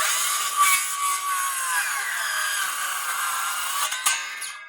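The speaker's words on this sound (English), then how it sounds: "So on these battery-powered saws, they don't have the torque that power or worm drop saw would have" A battery-powered circular saw cuts through deck wood in one steady, continuous high-pitched whine that lasts nearly the whole clip, with a brief change near the end as the cut finishes.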